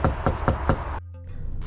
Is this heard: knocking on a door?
yes